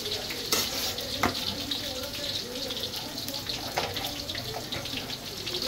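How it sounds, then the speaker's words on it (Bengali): Potatoes fry in a pan with a low, steady sizzle and occasional sharp clinks of a utensil against the pan, heard close, with faint voices in the background. "আলুটা ভাজা ভাজা হোক"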